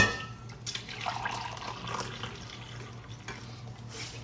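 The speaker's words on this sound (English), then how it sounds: "I'm going to pour myself some coffee." Coffee poured into a cup at home on a Sunday morning, a steady liquid trickle with a brighter splashy stretch, close and moderately loud, with no talking.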